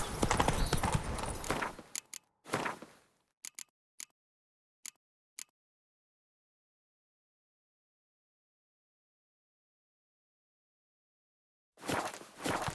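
Horse hooves clip-clop in The Witcher 3 video game, a run of distinct, well-spaced hoofbeats after a burst of louder noise, then silence until more sound returns near the end.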